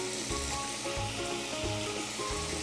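Cheesesteak meat seasoned with salt, garlic and chili powder sizzles steadily in a pan, a close, continuous frying hiss with soft stirring thumps.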